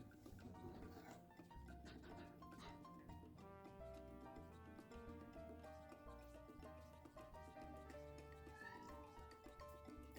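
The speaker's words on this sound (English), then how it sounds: "Please excuse our cats." Domestic cats meow in a home kitchen during a cooking session, their calls mixed into steady, dense background music that runs throughout.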